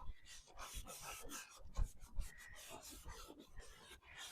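A rag wipes excess finish off a wooden thrift-store picture frame in quick, close, scratchy rubbing strokes, uneven in rhythm and fairly quiet.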